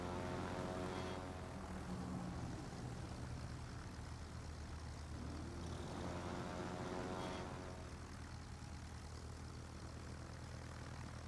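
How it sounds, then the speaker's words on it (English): Rocket bomber aircraft in World of Warships drone steadily overhead, a continuous low propeller-engine hum that swells and fades slightly, quiet and distant, with no talk. "Send up some rocket bombers"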